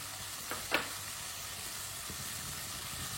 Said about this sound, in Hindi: मटर डाल के 3 मिनट के लिए पका लेंगे चम्मच चलाते हुए।